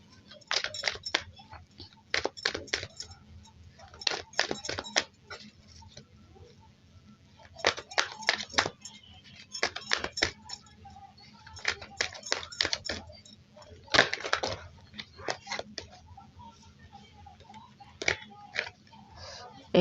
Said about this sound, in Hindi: एक सेकेंड, कार्ड्स गिर गए हैं।